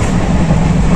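A moving train on the Mahalaxmi Express rattles loudly from inside a general coach, with a dense, steady roar and rumble filling the whole moment with no pause.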